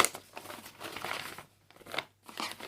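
Old paper budget envelopes being handled, crinkling and rustling in short bursts with brief pauses, close and moderately quiet.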